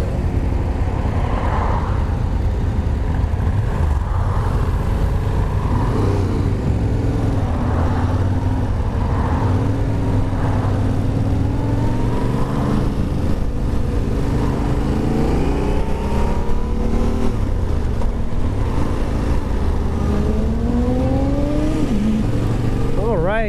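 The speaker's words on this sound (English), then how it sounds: "This is my ride on the Yamaha Tenere 700, the T7." A Yamaha Tenere 700 adventure motorcycle rides along with a loud, continuous engine drone that rises and falls through shifts and revs, with wind noise and a rider's voice talking over it.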